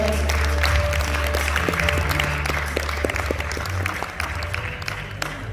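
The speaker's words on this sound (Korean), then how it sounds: "여러분 다시 한번 박수 보내드릴까요?" Forum audience in a hotel grand ballroom applauds at the close of a diaspora network opening ceremony, a dense even clapping sustained throughout over a low background hum.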